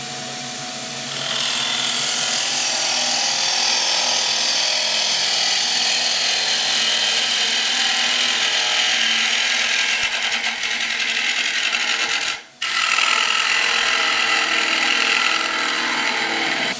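Bowl gouge cutting a green timber bowl on a wood lathe, a continuous loud rushing scrape as the tool shaves the spinning wood, with a brief break before the cut resumes.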